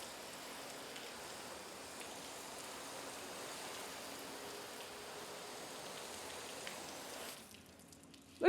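Soapy water from a bucket washes over a car's paint in a steady, close hiss of splashing and dripping that holds evenly before dropping off abruptly at the end.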